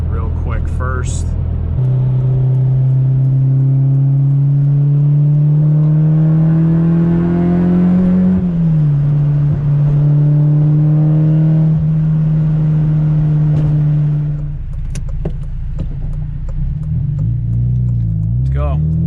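A Honda JDM K24A engine on a stock fuel pump with an E-tune revs hard and holds near 7,800 RPM. A loud, sustained high-pitched wail climbs, dips briefly and holds, then drops back toward a low rumble.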